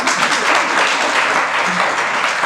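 Audience applause at a spiritual discourse by a Jain monk: a dense, steady burst of many hands clapping, loud and continuous for a couple of seconds with no voices.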